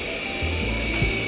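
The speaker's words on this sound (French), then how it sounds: "le bruit que vous entendez, c'est l'aspirateur qui est en train de tourner" A vacuum cleaner runs steadily indoors, a loud constant whine and airy roar with some low shifting tones, heard on its own without talking.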